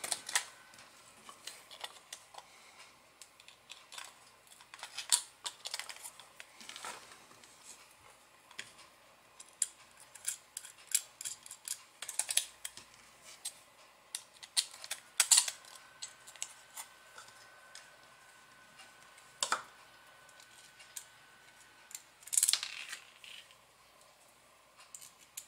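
Small screws driven by hand to mount an Arduino Uno board, heard as scattered light clicks and ticks with quiet scraping, close and faint, in irregular bursts with short pauses between.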